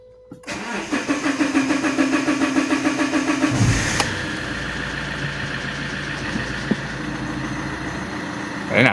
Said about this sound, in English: the first start will not be very fast because of the air still trapped on the lines